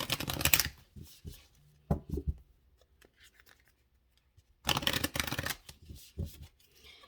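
A deck of oracle cards is shuffled in two quick riffling bursts separated by quieter handling and taps of the cards, close and soft, with no one talking.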